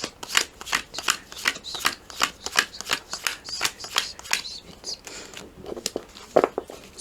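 Tarot cards being shuffled during a reading, a steady run of quick, crisp riffling slaps repeating roughly every third of a second, close and clear, growing sparser and softer toward the end.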